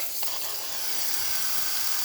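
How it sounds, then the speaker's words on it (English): Steam hisses from the wand of a Breville espresso machine with a thermoblock as it heats up, a steady, bright rushing hiss close by with faint mechanical ticks underneath and no speech. "As the temperature increases in the thermoblock, the steam pressure also increases and we'll see a nice steady steam coming out of the one."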